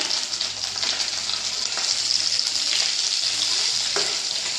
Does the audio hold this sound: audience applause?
no